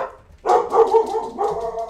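Dogs bark several times close by in a quick burst, loud and alone with no talking over them.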